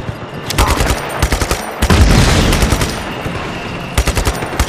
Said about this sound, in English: I'm just totally not giving a fuck at everyone shooting me